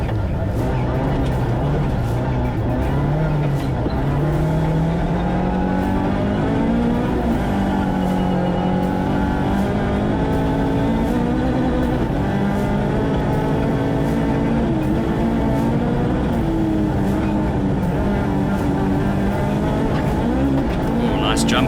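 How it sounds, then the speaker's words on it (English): A rally car powers through a stage at the Algoa Scribante Rally, its engine revving hard and continuously with rising and falling pitch as it shifts gears, loud and close throughout, with commentary running over it. "Great car control from Clyde Challenor as they come through."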